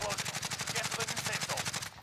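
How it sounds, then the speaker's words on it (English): Rapid, evenly spaced machine-gun fire from above in a video game, a steady string of close, sharp shots running nearly two seconds before cutting off. "Shit, is that you shooting from above?"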